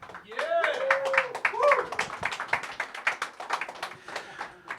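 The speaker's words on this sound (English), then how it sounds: "a big thank you and round of applause to the entire museum staff" Scattered applause from an audience at a hip-hop induction ceremony in a museum, light individual claps of moderate loudness with people talking over them, including a voice at the start.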